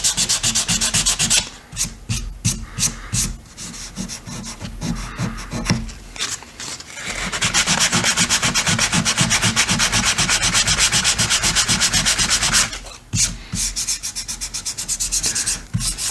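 Sanding a spliced joint in wooden baseboard trim by hand, giving a loud, close, continuous rasping rub in quick back-and-forth strokes with a few brief pauses, no voices.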